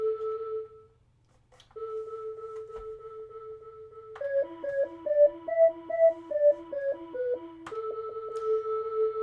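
Chorus voice on a Yamaha PSS-14 keyboard playing a simple tune: steady held notes, then a quick bouncing run of short notes, then another held tone, clear and close with no one speaking.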